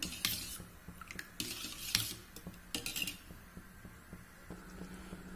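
Curd and water being stirred together in a bowl, a utensil clinking and scraping against the sides in quick irregular strokes with soft wet sloshing, close and fairly quiet, no talking.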